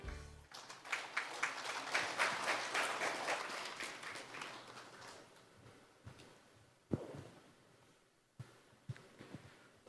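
Audience applause at a Daegu Haany University presidential inauguration ceremony, welcoming the alumni association president's congratulatory speech; a dense, loud burst of clapping that thins out after about five seconds, leaving scattered claps.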